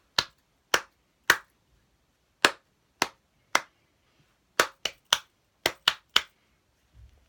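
Sharp hand claps in short rhythmic groups of two and three during a clapping game, crisp and close, with brief pauses between bursts and no talking.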